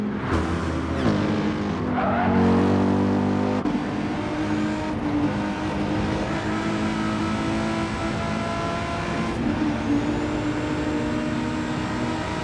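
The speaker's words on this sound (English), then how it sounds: "Moulton still currently 2nd place, but Moz trying all he can to get back past him again. Super strong in the slipstream is that Volkswagen." Race cars in a Gran Turismo 7 BTCC replica league race, including a Volkswagen, roar continuously as engines rev and shift close together, with a brief tire skid early on and steady drafting drone throughout.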